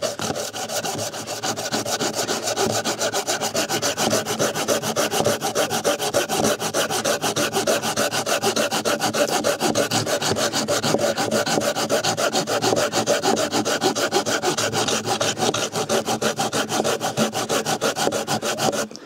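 A Bahco folding hand saw rasps steadily through wood, close up, with fast even strokes that continue without a break for the whole stretch; no voices.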